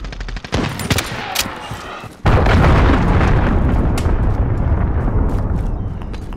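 Call of Duty Modern Warfare gunfire rattles in quick bursts. A heavy missile explosion then erupts into a loud sustained roar and rumble that slowly fades.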